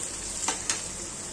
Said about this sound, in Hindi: अब 2 मिनट के लिए फिर से लो टू मीडियम फ्लेम पे भुनेंगे